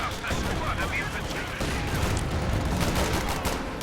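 Dense, continuous gunfire and blasts from a Company of Heroes 2 battle with bazooka infantry, a loud unbroken wall of rapid shots and rumbling explosions with no pauses.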